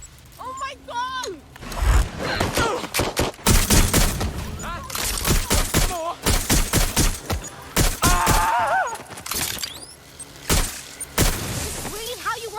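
Gunfire in the video game Watch Dogs Legion, with loud bursts and booms scattered among frequent shouted speech from characters.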